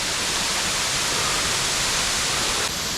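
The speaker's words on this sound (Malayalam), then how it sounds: "ശരിക്കും പറഞ്ഞാൽ ഒരു ഗുഹയിൽ നിന്ന് വെള്ളം ഒഴുകി വന്ന പോലെയാണ് കേട്ടോ വെള്ളം വരുന്നത്" Waterfall at Njandirukki in Idukki, water gushing out as if from a cave, a steady loud broadband roar with no pauses.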